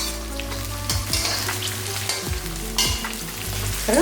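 Fresh green peas sauté in hot oil for chicken fried rice: a loud, close, steady sizzle with a few stirring scrapes and knocks against the pan, and no talking.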